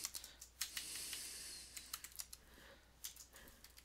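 Light, quick keystrokes tap on a computer keyboard in irregular bursts, quiet and close, with soft pauses between clusters of key presses and no talking.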